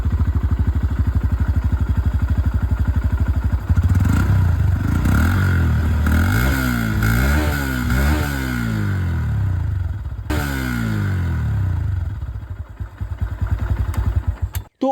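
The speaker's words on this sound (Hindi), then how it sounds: "सबसे पहले एग्जॉस्ट साउंड में आप लोगों को सुना दूं और स्टार्ट करते हैं यहाँ पर विद CB125 हॉर्नेट।" Honda CB125 Hornet motorcycle, a loud, close engine note that idles steadily, then is revved up and down several times in sweeping rises and falls before it settles and cuts off near the end.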